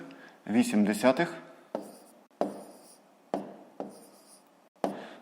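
A pen or pencil scratches out numbers by hand for long division in a grade-5 maths exercise, a handful of short, close strokes after a brief spoken phrase.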